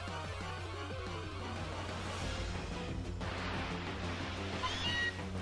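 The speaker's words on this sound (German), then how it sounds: "Alola Mauzi, okay." Alola Meowth's cry in Pokémon Ultra Sun rings out as a short synthetic meow over steady, busy game music, with a brighter chirp near the end.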